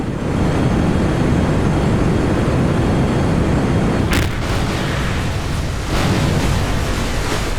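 A spaceplane crash in Kerbal Space Program, a loud sustained rumbling roar of explosion and debris, with sharp bursts around the middle and toward the end.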